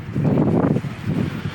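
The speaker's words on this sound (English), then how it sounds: "The wind is so bad." Strong wind at sea on a boat buffets the microphone in a loud low rumble that swells and eases briefly.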